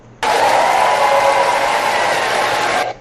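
A rally crowd cheers for Kamala in a loud, sustained roar that starts suddenly, holds at an even intensity for about two and a half seconds, then stops sharply.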